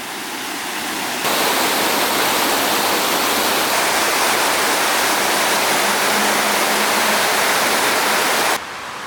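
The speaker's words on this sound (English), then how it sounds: "this water is coming from the pond into Central Park" Water from the man-made Ternopil Pond pours into Central Park as a loud waterfall, a dense continuous roar that starts abruptly and cuts off near the end.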